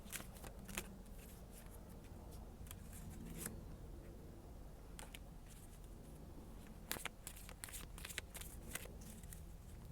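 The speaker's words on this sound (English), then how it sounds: "These are a little bit hard for me to shuffle" Tarot cards being shuffled up close in repeated soft riffling bursts and flicks, fairly quiet, with short pauses between handfuls.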